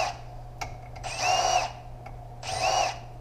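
Power tool whirring in two bursts of about half a second each against a steady mechanical hum, while loosening over-torqued small M4/M6 black oxide socket head bolts during a 68RFE transmission teardown.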